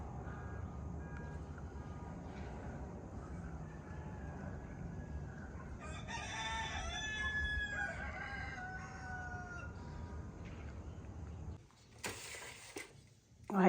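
A rooster crows faintly from some distance against a steady low background hum.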